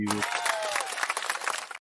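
Clapping mixed with cheering and crowd noise, loud and close, running steadily for nearly two seconds before cutting off, with a voice briefly over the start.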